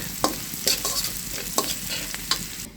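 Finely chopped onion fries in a pan while cooking ash gourd, a steady close sizzle broken by several sharp scraping stirs of a spatula, with no talking.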